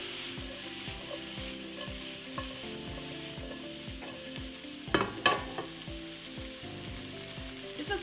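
Cauliflower pieces tossed in a frying pan, sizzling steadily with regular soft scraping and clattering strokes and a couple of louder shakes of the pan, no voices.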